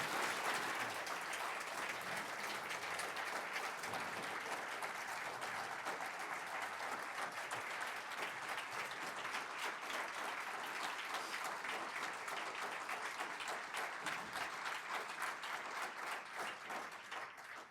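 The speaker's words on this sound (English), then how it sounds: "I would appreciate it if you would give her an applause" A room of alumni at a university reunion applaud a guest, a sustained and even wash of many hands clapping that carries on for well over a quarter minute before thinning toward the close.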